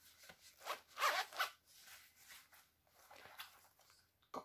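A zipper runs along the middle of a navy blue Radley London handbag, giving a few quick close rasping pulls and a final short tug, alone and fairly quiet.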